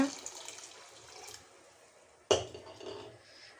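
Mutton cooking water poured from a tumbler into a biryani pot, a soft, steady liquid trickle followed by a sudden louder splash and pour with a faint clink of the vessel.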